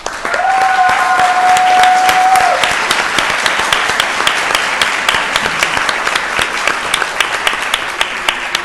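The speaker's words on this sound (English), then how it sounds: "please join me in giving them a round of applause" Honored students receive a sustained round of applause at a city council meeting, steady clapping from a seated crowd that thins into scattered claps toward the end, with a brief electronic tone near the start.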